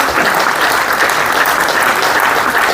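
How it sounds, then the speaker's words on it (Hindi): Dense, loud applause from an audience at a BSNL jubilee day ceremony fills the whole stretch, steady continuous clapping with no talk over it. "तालियां बजते हैं।"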